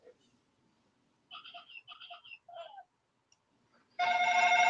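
A telephone ring tone sounds near the end, loud and sustained, after faint scattered chirping tones earlier in a quiet stretch; no speech over it.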